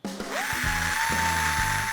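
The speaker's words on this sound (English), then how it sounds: "we can incrementally step up the drill size until we have removed the mass that's causing our imbalance" A drill bores into a small-block crankshaft's front throw to remove mass for balancing, giving a steady close whine with repeated low grinding pulses as the bit bites into the steel.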